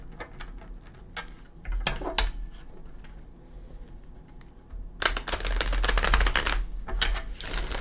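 A deck of tarot cards is shuffled in a couple of bursts, soft riffling snaps first, then a louder, denser flurry of rapid card flicks close to the listener.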